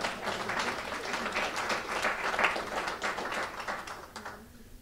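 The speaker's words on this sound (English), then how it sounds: "Now give her a round of applause." A round of audience applause at a community engagement meeting in Brooklyn, steady and moderately loud before fading out near the end.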